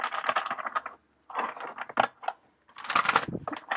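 Quick bursts of crisp, papery riffling as tarot cards are shuffled close by, separated by short pauses.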